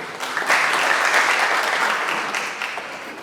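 A burst of dense clapping from an audience at a press conference, loud and even throughout, easing a little toward the end.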